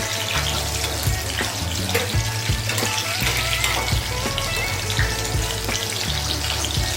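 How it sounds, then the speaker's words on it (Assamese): Chicken pakoras for chicken Manchurian fry steadily in hot oil, a continuous close sizzle with scattered crackles and a low rhythmic hum underneath, no voices. "কমকৈ চিকেনটো ফ্ৰাই কৰি লওঁ"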